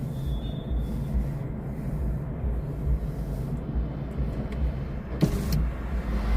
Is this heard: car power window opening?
yes